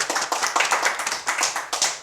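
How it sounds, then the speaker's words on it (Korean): A small audience claps at a multicultural talk, a brief burst of close, crisp handclaps in an irregular but rapid rhythm, loud and alone with no voices over it. "박수 한번 쳐주세요."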